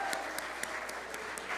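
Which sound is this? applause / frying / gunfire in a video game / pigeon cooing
applause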